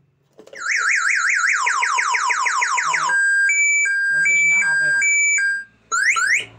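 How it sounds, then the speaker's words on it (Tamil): Bluetooth MP3 security alarm box on a bike sounding off: loud electronic siren with rapid warbling tones, then sweeping whoops and alternating beeps, ending with a brief pause and a rising chirp. "வண்டி லைட்டாக அசைச்சா போது அலாரம் அடிக்கும்"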